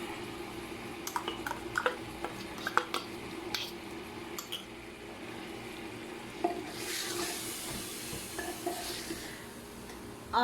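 Mutton fries in a pan with ginger garlic paste, giving a soft steady sizzle broken by intermittent stirring scrapes and clinks, with the sizzle swelling louder for a few seconds toward the end.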